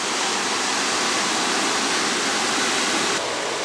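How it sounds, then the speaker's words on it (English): Sea waves at Llangrannog on the Welsh coast, heard from inside a room: a loud, steady, unbroken roar of surf washing with no distinct breaks, with no voices over it. "Can you hear those waves?"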